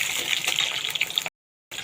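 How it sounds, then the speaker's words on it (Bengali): Potatoes frying in hot oil, dropped in and browned in a pan for a meat dish, give a steady loud hiss with light crackle that cuts off briefly near the end and then resumes. "আলুগুলোকে ভালো করে ভেজে নিতে হবে লাল করে"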